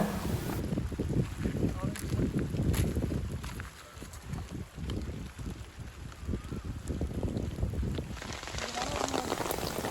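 Heavy rain pours down steadily at a palm tree planting site, a broadband wash continuing across the whole stretch, with a voice talking over it at times.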